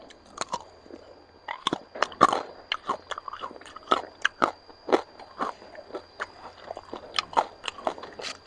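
Crispy thick-skinned pork crackling bitten and chewed up close, a steady run of loud, sharp crunches repeating rhythmically with no talking.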